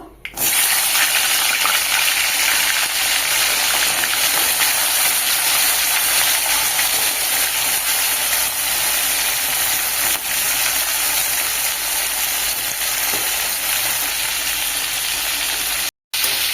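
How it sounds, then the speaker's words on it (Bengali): Crab pieces fry in hot white cooking oil in a wok, giving a loud, continuous, even hiss of sizzling that carries on steadily without pause or voices. "তেল গরম হয়ে গেছে, কাঁকড়া দিয়ে দেবো।"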